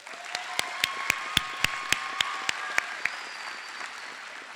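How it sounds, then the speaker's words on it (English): Graduation audience at a high school ceremony clapping in a sharp, evenly spaced rhythm of distinct claps over a faint tonal hum, fading off after about three seconds. "Let's give us all a round of applause."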